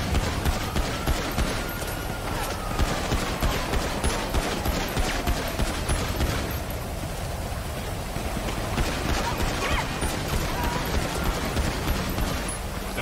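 Dense, steady gunfire in a video game as police officers are shot at: rapid crackling shots that run continuously and loud, with a faint whine under them.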